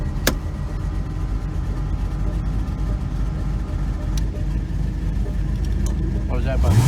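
Turbocharged FB RX-7 fitted with a small-block Chevy engine, running 7 psi of boost, drives with a loud, steady low engine drone that builds slightly toward the end, heard from inside the car.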